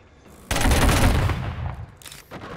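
Gunfire from a weapon in the Killzone multiplayer game on PS4 opens as a sudden loud burst that holds steady for about a second, then fades into a rattling tail with a brief second flare near the end.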